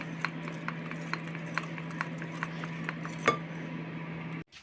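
A spoon clinks rhythmically against a bowl while sour cream is stirred, regular light taps roughly every quarter second over a steady low hum, ending with one sharper knock.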